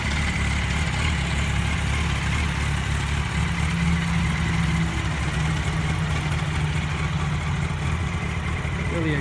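A 2005 Yamaha R1 Raven Edition motorcycle idles on its stock exhaust, a steady, close, even engine drone that holds throughout without revving.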